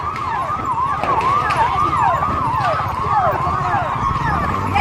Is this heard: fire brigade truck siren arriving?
yes